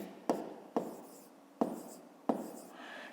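Handwriting numbers on paper, four distinct scratchy pen strokes at close range, each a sharp onset that trails off, spaced unevenly over a few seconds in a quiet room.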